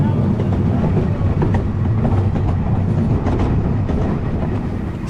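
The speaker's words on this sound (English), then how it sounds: "So we're going through the crossover here" A train on the Diamond Valley Railway rolls through a crossover onto another line, with a loud, steady rumble and irregular wheel clicks and clunks over the points, heard from the driver's cab.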